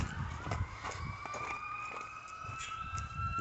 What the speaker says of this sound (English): You hear all the sirens going on?